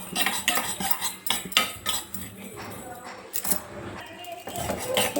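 Fenugreek and cumin seeds dry-roasting in a pan for a grated mango pickle, a spoon clinking and scraping the metal in quick irregular strokes, close up, with only faint background sizzle.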